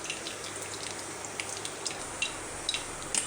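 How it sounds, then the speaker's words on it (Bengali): Mustard seeds, bay leaf and dried chili tempering in hot mustard oil give a soft, steady sizzle dotted with sharp little pops and crackles that grow more frequent toward the end. "এই দেখুন বন্ধুরা, সর্ষে, তেজপাতা আর শুকনা লঙ্কা ফোড়ন দিয়ে দিলাম"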